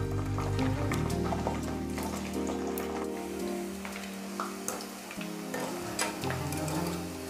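Cauliflower florets deep frying in hot oil, a steady bubbling sizzle running throughout with occasional light clinks and stirring sounds, close and moderately loud with no talking.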